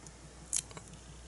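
Small craft scissors, bought from Etsy, snip through paper during a scrapbooking page build: one sharp close cut followed by a couple of fainter snips in a quiet room.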